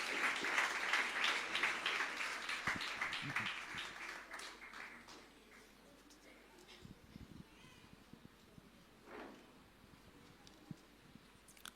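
Audience applause welcoming a preacher at a Christian fasting prayer meeting: a dense burst of clapping fills the first few seconds, then thins and fades into quieter room noise with a few scattered sounds.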